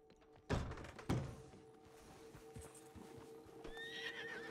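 Two heavy thuds, like hooves, land early on, then a horse gives a short whinny near the end over a low, steady hum, in the video game Red Dead Redemption 2 Online.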